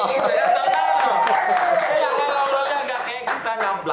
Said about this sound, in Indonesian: Ya, tepuk tangan dulu dong.